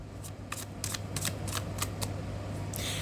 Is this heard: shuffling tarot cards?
yes